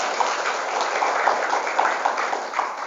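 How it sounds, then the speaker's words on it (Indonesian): An audience at a live event in an Indonesian Islamic boarding school claps together, a dense, steady wash of applause held throughout at a loud, even level with no pauses. "Tepuk tangan Bapak"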